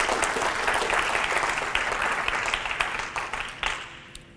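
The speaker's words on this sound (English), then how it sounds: "You guys want to clap?" Conference audience at a Python developer event applauding after a talk, steady moderate clapping that thins out and fades toward the end, with no talking.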